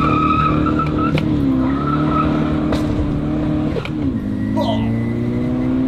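A Volkswagen Golf mk6 GTD with a turbo makes a loud standing-start launch. Its engine revs climb through sharp gear-change cracks and short tire chirps, with a brief voice partway through.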